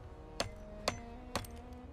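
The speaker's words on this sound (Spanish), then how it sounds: "Él martillaba la última tabla" Three evenly spaced, sharp hammer blows strike the last wooden plank of an ark, each a crisp knock about half a second apart over a low, steady background.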